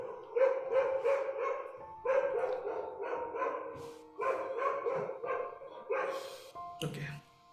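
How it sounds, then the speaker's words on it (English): A dog barks repeatedly outside on the street right beneath a house, bursts of loud, fairly close barking in uneven runs with brief pauses, heard under indoor room ambience with people speaking nearby. "There's a dog right under our house."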